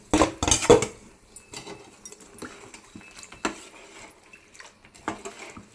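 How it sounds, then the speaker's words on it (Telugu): Pulihora being stirred and mixed in a pot, with a few loud clattering scrapes of the spoon against the metal at the start and then softer, intermittent clinks and scrapes. "ఇప్పుడైతే మొత్తం కలుపుకోవాలి ఒకసారి"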